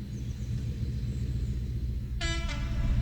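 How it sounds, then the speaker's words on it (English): A Class 56 diesel locomotive passing through Shawford Station, a steady low rumble of the engine and wheels with a sharp two-tone horn blast near the end, close by and loud. "It's a Class 56 and it's due through here in a moment."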